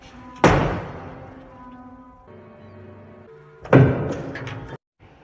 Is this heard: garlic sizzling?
no